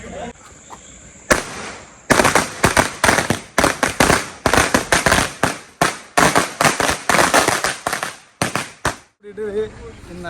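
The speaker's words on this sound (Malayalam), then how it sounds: "നല്ലൊരു പടക്കം പൊട്ടിച്ച് എല്ലാവരും എത്തിയിട്ടുണ്ട്" A string of firecrackers bursts at a gathering before a church trip in Edappally, a rapid run of sharp loud cracks with irregular gaps, starting after a quiet moment and ending in a burst of overlapping pops.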